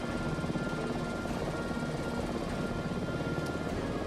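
Helicopter rotor chop from Microsoft Flight Simulator 2024, in the style of a Huey blade: a steady, even low whirring drone that holds constant throughout at moderate, slightly distant loudness, with no speech.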